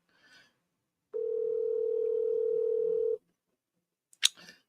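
A steady telephone ringing tone holds for about two seconds, faint and alone, followed by a brief click.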